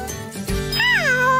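A cartoon cat meows once, a clear rising-then-falling cry that is loud and close, preceded by a faint jingle.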